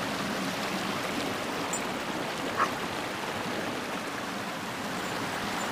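A creek flows in a steady, broadband rush of water, close and constant, with no voices present.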